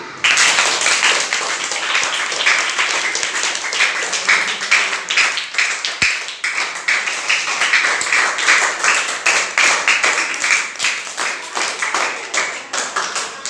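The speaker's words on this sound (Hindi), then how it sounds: "सबके लिए ताली" A classroom of students applauding together after answering a maths question about cube volume, a dense, steady patter of many hands clapping at close range for over ten seconds, with no talking.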